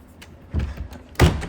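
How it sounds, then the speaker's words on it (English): A sliding barn door is shoved along its track, giving a couple of short rumbling scrapes and a heavier thud near the end, close by with no talking. "I broke my barn door."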